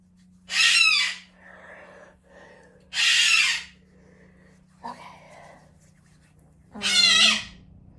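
A pet bird calls indoors in loud, shrill bursts that come at intervals, with soft talk from a person doing makeup in between.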